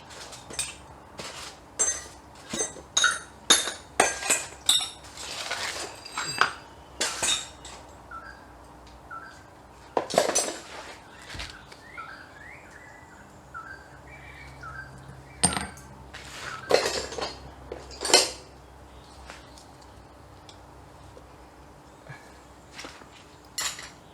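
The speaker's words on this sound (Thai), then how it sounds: "ในเมื่อมันดูดไม่ออกเราก็ต้องตอกเอา" Sharp metallic strikes ring out at uneven intervals while a rear wheel bearing is hammered out of a Honda CB150R motorcycle wheel in a workshop, clinking and tapping close by with brief pauses between blows.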